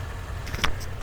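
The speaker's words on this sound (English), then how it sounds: "see if we can hear any of the good Mustang cold air intake noises" A ten-year-old Mustang GT fitted with a Roush cold air intake idles close by with a low, steady rumble and a brief click partway through.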